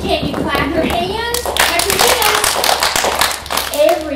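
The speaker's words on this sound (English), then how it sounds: "Can you clap your hands?" Bursts of hand clapping from several children mixed with lively voices and chatter at a library event, loud and close.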